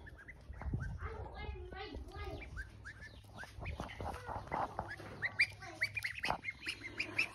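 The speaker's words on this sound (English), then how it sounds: "So we have some bow-legged ducks." Ducks quack and squawk in a farmyard with goats, a busy cluster of harsh nasal calls overlapping with other animal noises and people talking nearby, steady and fairly loud throughout.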